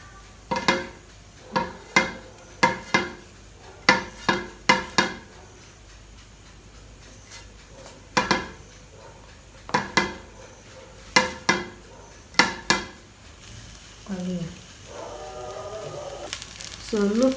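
Something is rubbed and scraped around a frying pan while preparing crunchy small chops, making sharp, irregular metallic clacks and scrapes, close and distinct, with quiet gaps between clusters and a brief sizzle-like rustle near the end.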